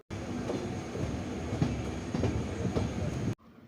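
Venad Express train rolling over the link line into Shoranur Junction, a close, steady rumble of wheels with rhythmic clickety-clack over rail joints, cutting off abruptly at the end.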